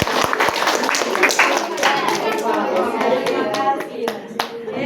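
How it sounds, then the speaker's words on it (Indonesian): Clapping from a classroom group of children, a quick burst of many hands patting together near the listener, with young voices chattering and calling out over it. "tepuk tangan."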